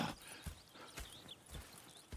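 Horses in Red Dead Redemption 2 clip-clop quietly with a few hoof thuds roughly every half second, faint and close, with distant ambient sounds behind.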